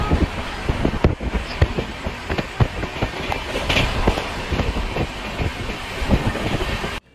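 A goods train rolls past on the neighbouring track, heard from aboard a moving Jan Shatabdi Express: a continuous close rumble with repeated rhythmic clacks and rattles that ends abruptly.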